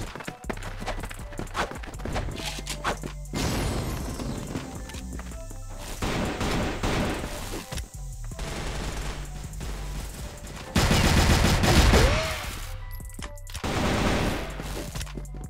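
Rapid bursts of gunfire crackle repeatedly over a busy, layered CrossFire game soundscape, with heavier volleys near the end.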